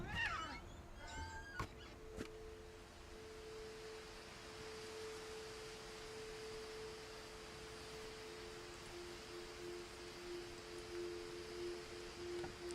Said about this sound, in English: I heard a cat. I just heard a cat.